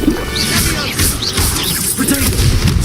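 Confringo fire spell blasts in Hogwarts Legacy during a duel: repeated booming, crashing bursts and whooshing effects over a rumbling low end, with spoken spell names mixed in.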